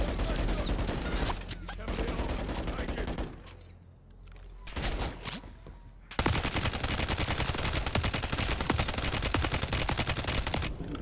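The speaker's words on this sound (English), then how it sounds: "That's a goddamn sentry gun I'm fighting with." Sentry gun in Call of Duty Modern Warfare 3 firing in dense, continuous automatic bursts, loud and close, with a short lull in the middle before a sustained, unbroken stretch of rapid fire resumes.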